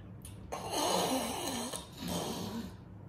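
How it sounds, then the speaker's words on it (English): A man snores indoors, with two long, rasping inhaled snores in slow succession, moderately loud and close, over a steady low hum. "number one sound on that channel is, of course, my husband snoring"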